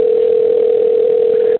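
A steady electronic telephone tone held unbroken for about a second and a half, loud and clean on a phone line, then cutting off abruptly.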